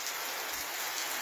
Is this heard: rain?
yes